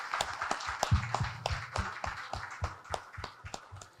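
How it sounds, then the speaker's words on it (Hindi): Scattered applause from a small audience at a Hindi media panel discussion on digital journalism, a sparse run of separate hand claps at close range, fairly quiet, with no talk over it. "तालियों की गड़गड़ाहट रुकनी नहीं चाहिए"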